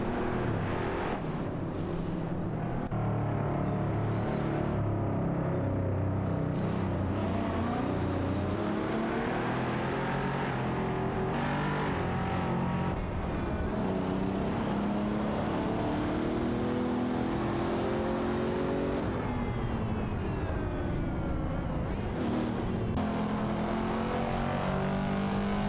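Ferrari Portofino race car engines roar and rev continuously in a video game race, multiple cars pushing hard through shifts and passes, loud and steady with no talk.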